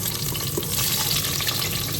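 Leftover fish and vegetables fry in hot oil in a cooking pot, giving a dense, continuous sizzle with small crackles and stirring sounds, close and fairly loud.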